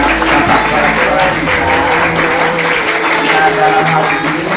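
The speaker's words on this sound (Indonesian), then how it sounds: "Tepuk tangan dulu." Students in a school gathering applaud for the principal, a continuous, loud wash of many hands clapping together throughout, with faint voices underneath.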